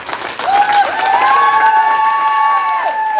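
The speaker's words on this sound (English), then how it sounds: "I want to give a big, massive round of applause to the people in Uri" A crowd at a live protest rally in Ballymena applauds and cheers, with a loud sustained whistle or shout riding above the clapping throughout.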